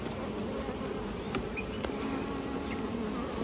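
Bees buzz steadily around a cluster of dense beehives, a continuous close insect drone with a few brief sharper sounds layered on top.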